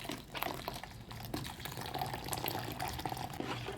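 Water pours steadily into a container with a close, continuous splashing gurgle, no voices.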